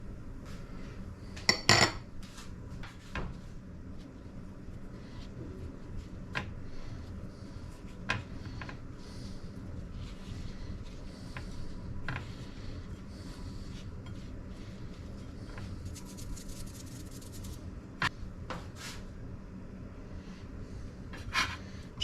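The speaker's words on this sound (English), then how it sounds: "Flour, salt, and pepper. Roll it in some flour." Morel mushrooms are rolled in seasoned flour in a dish, giving soft, faint shuffling with scattered light clinks and taps of cutlery against the dish over a quiet kitchen background.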